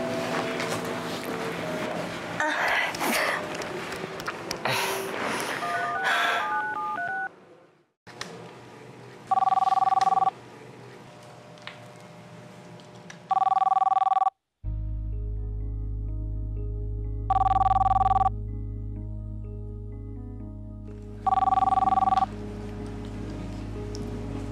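Telephone ringing during a call, with repeated electronic ring bursts in a regular pattern after some dialing and line noise, fairly loud and close with no voices.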